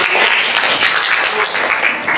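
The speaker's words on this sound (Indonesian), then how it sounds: "Kita beri tepuk tangan." Dense, steady applause from a classroom group, sustained and fairly loud throughout with no pauses.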